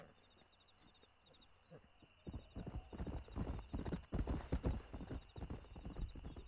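Horse hooves clip-clop steadily in Red Dead Redemption, starting after a quiet stretch with crickets and continuing loud and rhythmic to the end.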